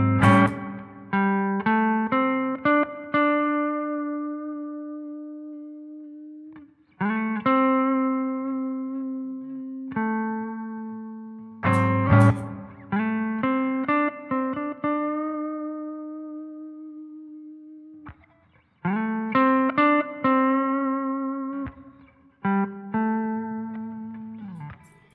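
Electric guitar plays a slow blues in A: clean plucked phrases that run down into long sustained notes with gentle slow vibrato, in repeated groups and quiet throughout.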